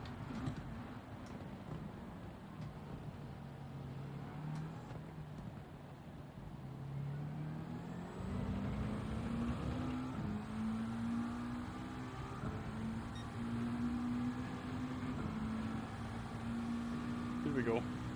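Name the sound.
race car driving in Gran Turismo 7 video game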